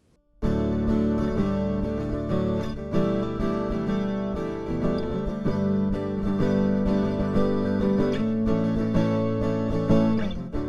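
Direct-recorded Guild 12-string acoustic guitar with a dull, muffled tone, strummed chords that ring on steadily at an even, moderate loudness for about ten seconds, with no voices.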